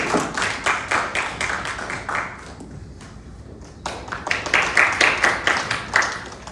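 Audience applause welcoming the director at a school admissions information session, a rhythmic burst of clapping from a seated crowd that thins briefly midway, then swells again and continues steadily.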